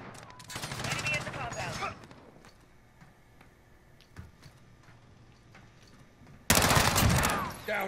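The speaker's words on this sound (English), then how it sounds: "This gun is actually so smooth." Rapid automatic fire from a gun in a first-person video game, a loud burst at the start, a short quieter stretch with scattered clicks, then another loud burst near the end, with a voice speaking over parts of it.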